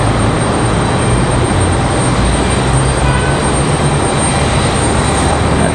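A Boeing 737-700 jet airliner passes close by at an airport, a loud, steady broadband engine roar with a high whine held throughout.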